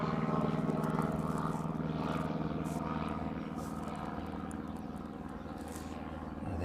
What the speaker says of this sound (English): This one on a training flight departing out from the flying school here at East Midlands